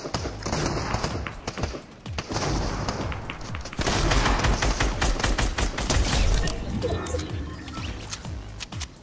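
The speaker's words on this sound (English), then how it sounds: "who's shooting at me now?" Video game gunfire crackles in dense, overlapping bursts and volleys, loud and sustained throughout, with scattered single shots and background battle din between the heavier barrages.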